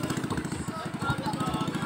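A racing cart's small engine runs with a fast, steady pulsing putter, close by, with a voice talking over it.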